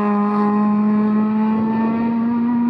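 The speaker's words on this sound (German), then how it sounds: "Unser Auto kommt da." Rally car at a stage of the 47th ADAC Rallye Stemweder Berg in 2017, a loud sustained engine drone holding a steady pitch as it drives past nearby.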